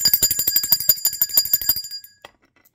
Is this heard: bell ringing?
yes